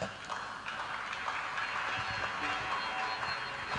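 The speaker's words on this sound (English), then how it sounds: "Let's clap for her." An audience at a youth development initiative event applauds steadily throughout, a dense wash of clapping that stays at an even level with a faint voice or two mixed in underneath.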